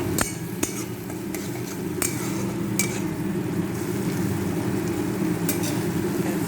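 Green peas masala curry with turmeric sautés in a pan with a steady loud sizzle, broken by occasional sharp clicks of a spoon scraping and stirring against the metal.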